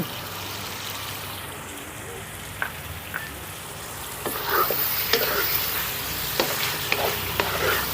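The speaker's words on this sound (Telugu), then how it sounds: "ఇందులో కొద్దిగా పెరుగు కూడా వేస్తున్నాను" Chicken curry with yogurt stirred in fries gently on a low flame, giving a soft steady sizzle with scattered pops and stirring scrapes, close and moderately loud with no talk.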